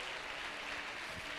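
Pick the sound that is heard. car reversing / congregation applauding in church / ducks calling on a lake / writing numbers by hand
congregation applauding in church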